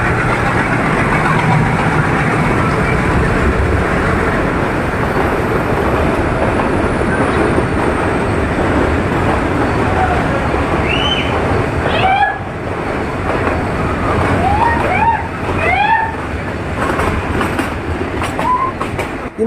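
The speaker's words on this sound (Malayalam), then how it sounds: "നമ്മുടെ ട്രെയിൻ അങ്ങനെ ഉദകമണ്ഡലം റെയിൽവേ സ്റ്റേഷനിൽ നിന്നും മേട്ടുപ്പാളയത്തേക്കുള്ള ട്രെയിൻ യാത്രയിൽ അതിൻ്റെ ആദ്യത്തെ ടണലിലേക്കാണ് ഇപ്പോൾ ഇതാ കയറാൻ പോകുന്നത്." A Nilgiri Mountain Railway train running from Udhagamandalam toward Mettupalayam, approaching its first tunnel: loud, steady rumble and rattle of the carriages, with brief wheel squeals appearing later, no talk.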